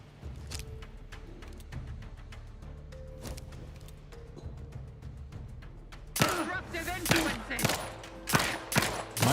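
A gun fires in The Outer Worlds 2 in rapid automatic bursts that grow loud and dense toward the end, over a steady background game hum.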